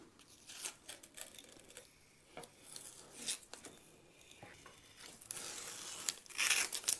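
Tape is pulled and pressed onto the neck of a thinline bass during binding, giving quiet, irregular bursts of tearing and crinkling with short pauses between strips, close by and alone.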